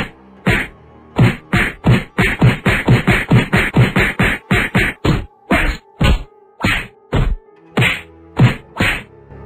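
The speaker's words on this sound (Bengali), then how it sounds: "সে আর কিছু বলার আগে মোটু এবং মোড়ল মশাই, যারা আগের থেকেই তৈরি হয়ে দাঁড়িয়েছিল, একসাথে নকল সাধুকে খুব মার মারল" Motu and the village headman thrash a fake sadhu in a Bengali cartoon: a rapid barrage of about two dozen loud, sharp cartoon whacks and thwacks lands in quick rhythmic bursts, slowing slightly toward the end, with no talking.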